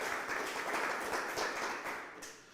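An audience at an outdoor farmers' event in Hoshiarpur applauds farmers on stage, a dense sustained clapping from many hands, moderately distant and steady throughout.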